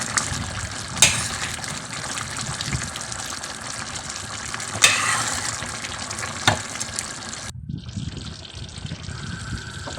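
Pork and chayote simmering in a pot, a steady bubbling and sizzling hiss with a few sharper pops and clinks, and a shift to a quieter, thinner bubbling near the end, no voices.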